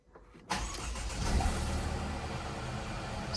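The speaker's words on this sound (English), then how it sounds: "So we get the car going" A car engine cranks briefly, then catches and settles into a steady idle that runs on to the end, close and moderately loud, with no voices.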